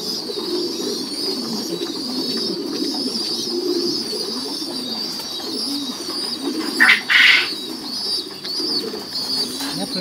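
A pigeon parent feeds its chicks, with steady soft cooing and chick calls close by throughout, and a brief burst of flapping or scuffling near the end.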